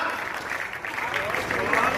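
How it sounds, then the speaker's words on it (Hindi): Audience clapping at a Hindi comic poetry gathering, a continuous spread of hands applauding in a hall for a couple of seconds, with a voice faintly mixed in. "देखिए आप बहुत अच्छी तालियां बजा रहे हैं"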